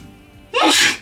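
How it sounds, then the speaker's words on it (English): One sharp, loud sneeze caused by saw dust erupts suddenly after quiet background hum in a van workshop, close to the listener. "the saw just makes you sneeze"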